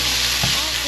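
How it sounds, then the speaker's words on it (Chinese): Mushrooms and fried tofu stir-fried in a hot pan, giving a dense, continuous close-up sizzle with a brief stirring scrape in the middle. "赶快翻炒"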